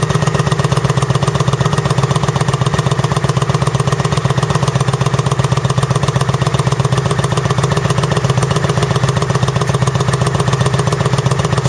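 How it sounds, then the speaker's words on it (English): A 2009 Kawasaki Vulcan 900 Custom motorcycle with a modified exhaust idles steadily and loudly, its deep, even pulsing running alone with no one talking. "There it idles down."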